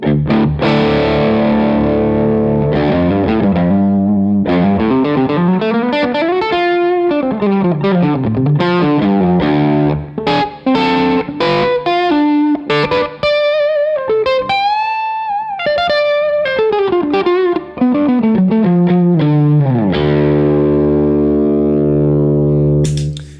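A loud, heavily overdriven electric guitar played through a low-to-medium gain overdrive pedal, compared with an OBViouS pedal, sustained distorted chords and melodic runs with a rich, saturated, slightly dark tone.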